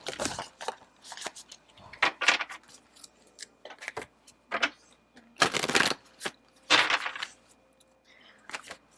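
Bursts of quick papery riffling as playing cards are shuffled, several separate shuffles with short pauses between them, close by.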